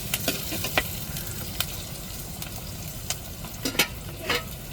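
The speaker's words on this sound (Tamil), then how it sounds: "நம்ம தக்காளி மிளகாயை நல்லா வதக்கி விட்டுக்குருவோம்." Tomatoes and chilies sauté in a pan for egg curry after onions and curry leaves, giving a steady close sizzle broken by a few sharp crackles and spoon-stirring scrapes.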